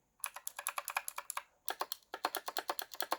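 Quick bursts of Hator Rockfall TKL mechanical keyboard keys clacking in rapid runs, crisp and close, with a short pause between groups.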